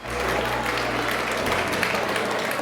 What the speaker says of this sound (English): a big round of applause for the Señor Raúl Felix